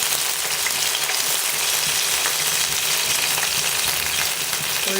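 Onions fry in hot oil with mustard seeds, fenugreek and curry leaves for a Kerala moru curry seasoning, giving a dense, steady, close-up sizzle throughout.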